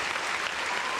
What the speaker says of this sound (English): So round of applause to the faithful out there